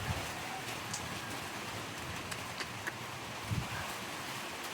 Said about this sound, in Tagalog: Isang hangin ulan.